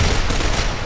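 Dense gunfire from a competitive Gears of War match, a loud continuous rattle of rapid shots lasting under a second.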